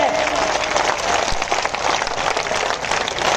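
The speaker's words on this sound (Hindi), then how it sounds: "अरे जरा तालियों का कनेक्ट तो बना दीजिए" A big crowd at a Hindu assembly keeps up continuous applause, a thick wash of clapping at constant level, with a faint voice briefly audible beneath it.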